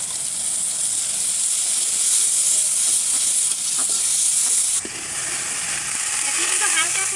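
Ground spice paste of ginger, garlic, cumin and chilli hits hot oil with fried onions in a home kitchen, giving a steady close sizzle and hiss that briefly dips before carrying on.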